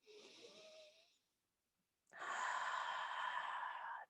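Deep, slow breaths during a seated yoga twist for the thoracic spine: one soft exhale, a pause of near silence, then a longer, louder breath drawn close to the microphone.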